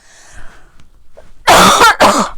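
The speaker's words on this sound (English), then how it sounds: "I'm going to cough." Two loud, harsh coughs close by, one after the other, after a moment of near silence.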